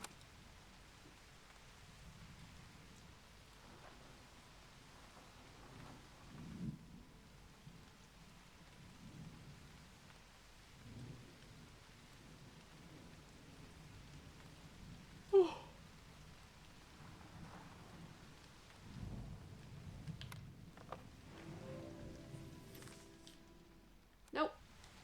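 Rain falls softly and steadily in the video game Season: A Letter to the Future, with low rumbles of distant thunder rolling underneath and a few brief sharper sounds over the quiet downpour.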